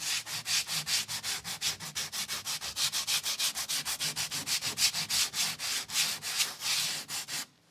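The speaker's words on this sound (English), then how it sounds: "Then sand it down." Filler on a wall being sanded by hand in quick, even back-and-forth strokes, about four per second, close and steady for seven seconds before stopping.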